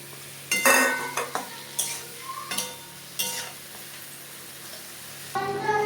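Ridge gourd stirred in a pan with prawns, a spatula scraping and clattering in a few distinct bursts over a faint, steady sizzle.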